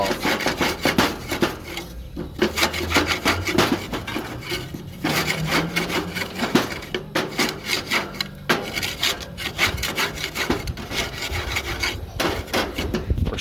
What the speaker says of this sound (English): And you just scrape it off